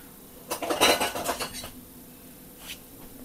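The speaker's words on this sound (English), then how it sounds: "While it's still hot, we need to cut it." A knife cuts hot ginger flapjack in a metal baking tin, making a scraping, clattering run of metallic scratches and taps for about a second, then a quieter scrape and one final light knock.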